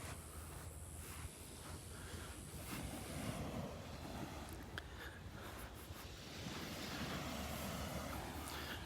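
Small ocean waves roll softly onto a sandy beach at Delnor-Wiggins, a quiet, continuous wash of surf mixed with light wind noise and no one speaking.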